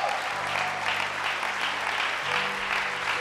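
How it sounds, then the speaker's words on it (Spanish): Steady, dense applause from a church congregation, clapping continuously at an even level for a few seconds with a faint background hum. "Démosle un fuerte aplauso a nuestro Señor."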